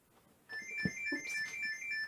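A telephone ringtone chirps in a repeating electronic pattern of short bright tones, fairly faint and heard alone after a brief quiet start, with a small knock partway through.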